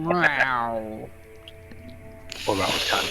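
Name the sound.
man imitating a cat meow and then a hiss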